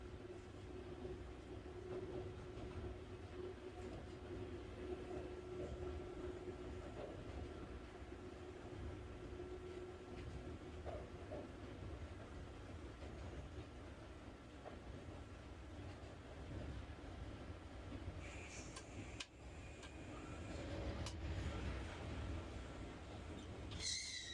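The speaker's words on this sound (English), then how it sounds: "The train is up to speed and moving on schedule." A steady low rumble of a freight train rolling along rails, continuous and distant, with faint metallic squeals near the end.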